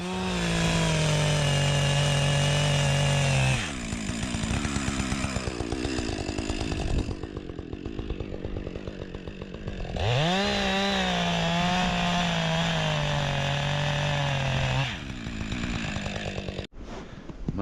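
A chainsaw revs loud and close while cutting a hole through ice near a beaver dam, holding a steady high whine with pitch dips and a brief drop in load midway, then running hard again before cutting off.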